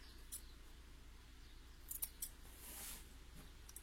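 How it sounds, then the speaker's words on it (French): Fabric seam allowance being notched with scissors during sewing of a shirt facing, giving a few faint, quick snips close by over a quiet room hum. "pour cranter les angles, tout simplement, on va venir avec son ciseau"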